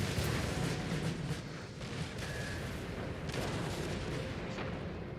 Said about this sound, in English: The amount of cannons being fired on this flank is insanity.